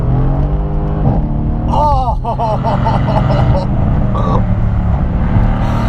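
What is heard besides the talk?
2017 Mercedes C63 AMG S accelerating at full throttle with a loud exhaust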